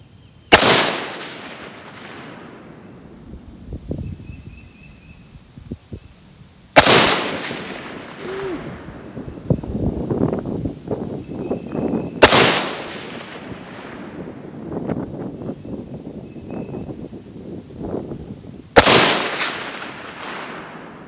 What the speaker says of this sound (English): I'm basically shooting right above the grass line, so these may be a little bit wonky